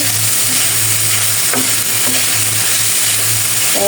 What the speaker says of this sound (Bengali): চিকেনটা রেডি হয়ে যাবে পরে পাঁচ মিনিটের মতো ভেজে নিব